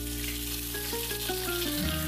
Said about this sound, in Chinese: 将熬汤所需的食材油炸